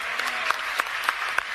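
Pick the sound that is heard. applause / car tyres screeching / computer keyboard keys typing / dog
applause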